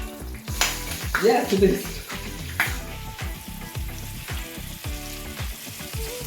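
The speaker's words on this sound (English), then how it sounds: "And then for how long do you fry them?" Beef cheeks sear in a hot frying pan with a steady, close sizzle and crackle. Brief bursts of spatter come through, and voices exchange a few words over the frying.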